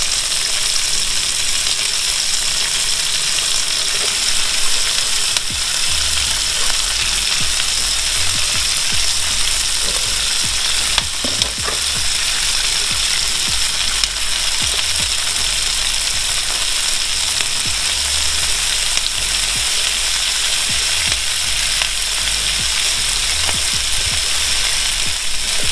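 Noodles for shrimp pad thai stir-fry in a hot pan with onion, giving a loud, steady sizzle throughout, broken by occasional scraping and tossing of the utensil against the pan, close and without talk.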